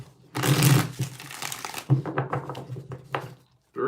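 A deck of reading cards being shuffled by hand in short riffling bursts at close range, with a person talking over and between the shuffles.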